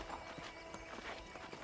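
Horse hooves clip-clop in a western ranch video game, a quick soft rhythm of steps, faint and mid-distance under ambient game noise.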